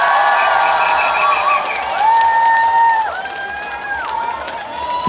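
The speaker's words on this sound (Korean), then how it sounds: "한 번 더 큰 박수 한번 주시겠어요?" Outdoor concert crowd at the Daejeon 0 o'clock festival claps and cheers for a trot singer on a hot day, a loud sustained roar of applause with shouts and high whistles or cries rising above it.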